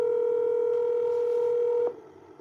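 Telephone keypad dialing tones: one steady, fairly loud dual tone held for nearly two seconds, then cut off, leaving a faint low hum.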